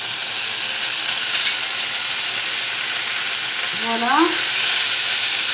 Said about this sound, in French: on va mettre donc les haricots verts et l'oignon